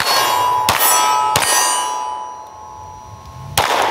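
Rapid shots from a Glock 26 pistol outdoors on a hot summer day: three sharp, loud cracks in quick succession, each leaving a bright ringing tail.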